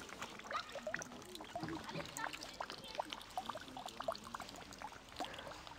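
Water runs from a non-potable fountain along the Vesperweg hiking trail, a faint, steady pouring trickle heard beneath people talking nearby.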